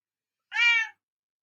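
A domestic cat lets out a single short meow, clear and fairly close, in an otherwise quiet room.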